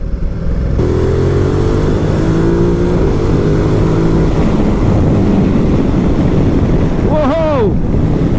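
A 2018 Ducati Multistrada 1260S engine while riding, a loud steady drone with rising pitch as it accelerates, heavily buffeted by wind noise, with a brief voice-like whine near the end.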